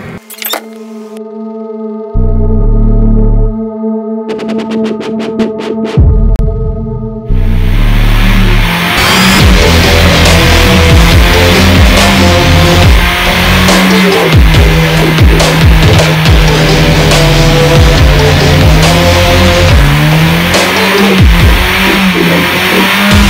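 The engine of a 1991 BMW 318is dirt track race car starts up and revs hard, loud and close, with rising and falling roars and raspy mechanical tone throughout.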